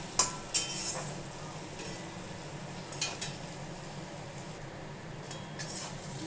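A spatula scrapes and stirs a spice paste with turmeric frying in a pan for a fish and potato curry, with a soft steady sizzle and a few sharp metallic clinks, close and alone.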